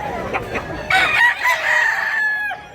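A rooster at a Cebu poultry seller's stall crows one long, loud call close by, with hens clucking around it beforehand.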